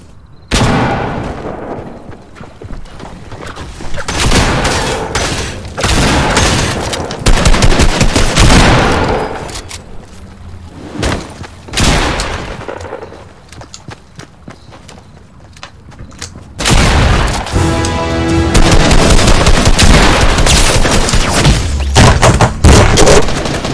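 Loud gunfire in Fortnite, with bursts of rapid automatic shots and heavy single blasts coming in uneven waves, separated by quieter gaps with footsteps and movement.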